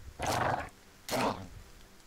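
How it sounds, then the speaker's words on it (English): Two short growling dog bursts from the video game Battle Brothers, each about half a second, separated by a brief pause, fairly loud and close with no talk over them. "I should actually deploy my dogs,"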